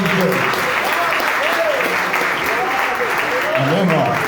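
Congregation applauding during a Wednesday evening church service, dense sustained clapping across the whole stretch with voices shouting over it.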